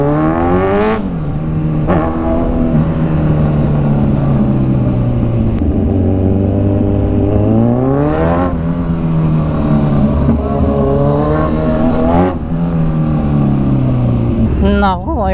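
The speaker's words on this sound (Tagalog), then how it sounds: "Grabe yung traffic oh." Heavy road traffic at a crowded, congested spot with many vehicles and people walking: a steady loud engine drone, with several engines revving up and easing off in repeated swells throughout.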